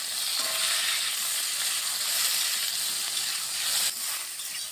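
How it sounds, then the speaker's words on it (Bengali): Steady, dense sizzling of fish pieces frying in hot oil, continuous and close, with faint stirring clatter and no voices. "অল্প লবণ দিয়ে পিসেরটাকে আমি ভালোভাবে ভেজে নিচ্ছি"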